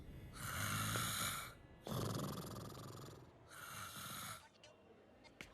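Loud snoring from a man in a hospital-bed comedy scene in a Telugu film, three long rasping snores in steady rhythm, close and alone.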